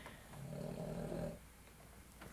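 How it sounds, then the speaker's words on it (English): Someone lying in the sun gives one drawn-out, low, rumbling snore near the middle, close and moderately loud, followed by quiet breathing. "snoring."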